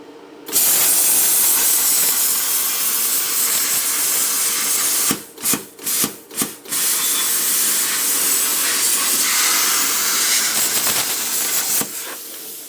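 An R-Tech P32D plasma cutter running at 20 amps slices through 0.8 stainless steel with a loud, steady roaring hiss, broken midway by several short stops and restarts, then hissing on before cutting off near the end, no voices.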